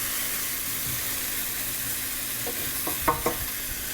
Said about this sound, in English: I'm just moving the shallot around.